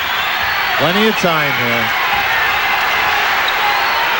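A packed arena crowd of about 16,057 at an overtime NBA basketball game between the Suns and Spurs keeps up a steady, loud roar, with a commentator talking over it.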